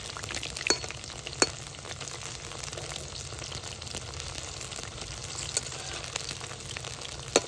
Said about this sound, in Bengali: তেল গরম হয়ে গেছে, পটলগুলি ভেজে নিচ্ছি।